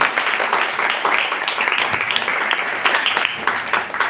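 An audience applauding a girl's dance performance at an Independence Day event, a loud, dense, sustained crowd of clapping hands that holds steady throughout with faint voices underneath.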